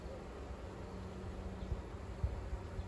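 Honeybees droning steadily around an opened hive during an inspection, a low continuous buzz close by with a few brief louder bumps and knocks of handling near the end, no talking.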